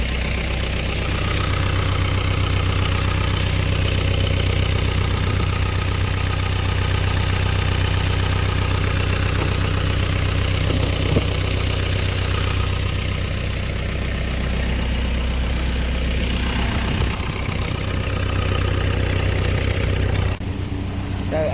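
Tractor engine idling steadily while being refueled on a farm before a day of baling hay, a continuous low rumble throughout with no talk.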